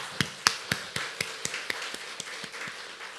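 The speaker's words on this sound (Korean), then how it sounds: "우리 같이 한번 위로의 박수 한번 드리겠습니다." Single pair of hands clapping at a Korean church Sunday service, about a dozen separate, evenly spaced claps at a moderate pace, fairly quiet and alone.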